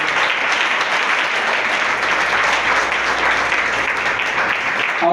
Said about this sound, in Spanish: Doy un fuerte aplauso a Jesús de Nazaret.